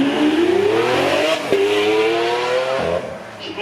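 A Lamborghini Aventador with a 6.5 litre V12, roof off, screams up through the gears at a supercar event, loud and close, with rising revs cut by two sharp upshifts.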